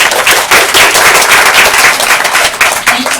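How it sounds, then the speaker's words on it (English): Loud, close round of audience applause for a speaker at a data science careers talk, dense and sustained hand clapping filling the whole stretch without speech. "Can we please give our speaker a round of applause?"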